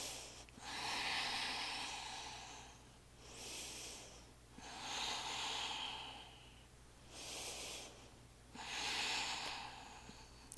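Slow, deep breaths during a yoga pose: four or five long, airy inhale-exhale cycles, close and quiet, with short gaps of near-silence between each breath and a faint steady hum underneath.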